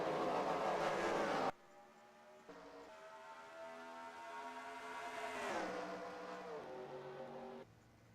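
Race cars accelerating off the green flag at Texas in a sim racing league video game: a steady, droning chorus of engines rises in pitch as they speed up, heard alone after a loud opening burst.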